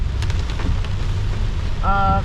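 Rain falls steadily during Korea's rainy season, a continuous dense hiss with a short tonal sound near the end.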